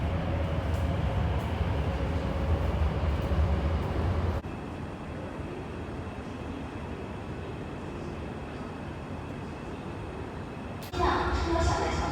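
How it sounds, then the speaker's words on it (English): An MTR train arrives at Shek Kip Mei station in Hong Kong with a steady rumbling roar that drops to a quieter hum partway through, then swells again near the end. "The train to Tilgate Lane is arriving."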